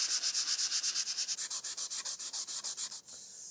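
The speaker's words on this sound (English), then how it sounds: "I'm just sanding the sanding sealer down nice and smooth." Sanding sealer on a wooden sword blade rubbed back with 220 grit sandpaper: about twenty quick, even back-and-forth hissing strokes, close and steady, then a softer scrape at the end.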